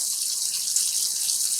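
Water runs steadily from a tap into a kitchen sink while dyed yarn is rinsed, giving a constant, even hiss of flowing water close by. No one speaks.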